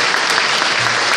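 Dense, steady applause from a crowd at a political party convention, continuous clapping filling the whole moment without a break.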